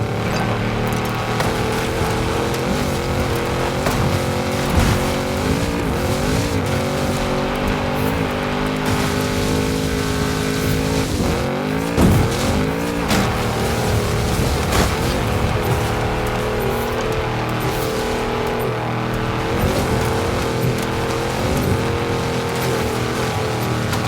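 A Porsche 959 races along in a video game, its engine droning steadily and shifting pitch as it accelerates and revs, mixed with a constant layer of game sounds and no talking.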